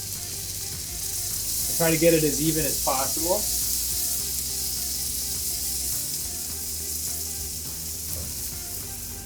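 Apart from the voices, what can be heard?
egg batter for purple potato frittata sizzling in hot pan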